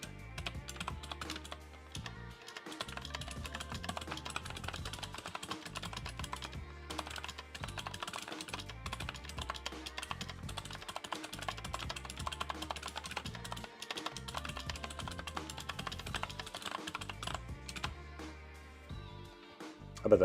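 Continuous close-miked typing on a computer keyboard, dense rapid clacking keystrokes running steadily with only short gaps, loud and near, no talking.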